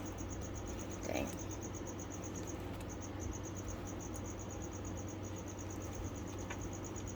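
Feeder crickets chirp steadily in a reptile and tarantula enclosure, a continuous high pulsing trill with short gaps, moderately faint against low room hum.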